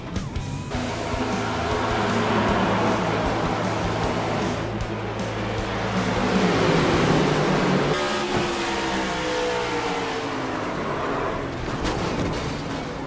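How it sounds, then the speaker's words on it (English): A multi-car pile-up on the front stretch of Indianapolis Motor Speedway in a racing video game, heard as a steady, dense roar of engines and tyre noise with rising and falling whines, no distinct impact standing out. "Wrecking in one."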